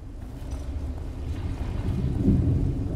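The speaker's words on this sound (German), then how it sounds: "Oh, und jetzt fängt es auch noch an zu gewittern." Thunder rumbling in as a storm begins in the horror video game The Evil Within, a low continuous roll swelling toward the end with rain hiss layered over it.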